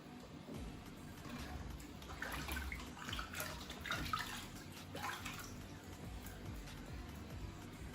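Water pours and splashes steadily into a basin to submerge a new clay cooking pot and its lid for seasoning, a continuous, faint, close gurgling wash with no talking.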